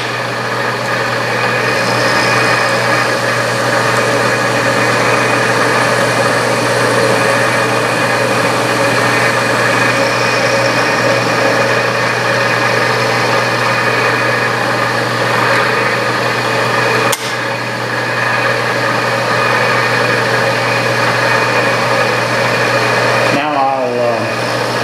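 A lathe takes a final knurling cut at ten thousandths, a steady close motor hum with a constant whine that runs unbroken, dipping briefly once and ending in a short scraping clatter.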